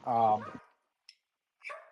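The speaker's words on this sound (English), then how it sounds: "can you hear my dogs barking?" A dog gives one close bark, followed by a short pause and then a softer second yelp or bark.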